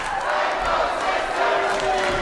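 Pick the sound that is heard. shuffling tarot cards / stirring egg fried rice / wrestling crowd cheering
wrestling crowd cheering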